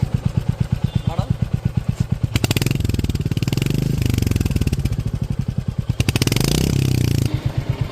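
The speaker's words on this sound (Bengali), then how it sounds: "এবারে গাড়ির এক্সস্ট নোট একটু আপনাদের শোনাবো।" A Royal Enfield Hunter 350 with its 350 cc air-cooled single revs up from a pulsing idle, swelling into two loud sustained bursts of exhaust roar with clattery engine throb close by, no talking over it.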